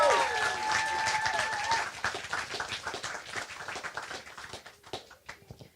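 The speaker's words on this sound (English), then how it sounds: "Guys, give them a bigger round of applause." An audience at a talk-series gathering bursts into applause, loud dense clapping that later breaks into scattered claps and fades, with a few raised voices over it at the start.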